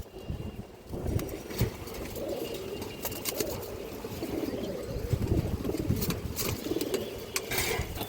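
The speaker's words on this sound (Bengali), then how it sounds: "মোটা নাকের কবুতর চোখটা দেখেন অসাধারণ চোখের কবুতর" Pigeons at a pigeon farm coo steadily in low, repeated murmurs, with scattered wing flutters and rustles, close by and without speech.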